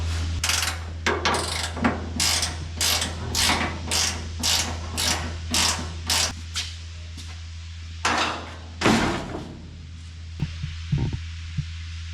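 A ratchet wrench works on the inner door structure of a 1932 three-window coupe, producing quick runs of close, crisp clicks in a steady rhythm over a low hum, then two louder bursts and a few scattered taps.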